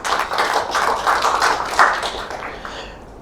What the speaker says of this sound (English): I want to give you a clap.